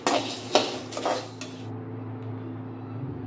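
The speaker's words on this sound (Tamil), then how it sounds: "இப்போ இது கொஞ்சம் ஹீட் ஆகணுங்க, கொஞ்சம் வறுக்கணும்" Ingredients dry-roasting in a pan for chicken mandi biryani, with a few metallic knocks and scrapes of a utensil against the pan early on, then a low, steady hum with no voices.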